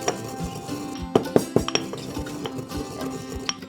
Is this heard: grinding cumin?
yes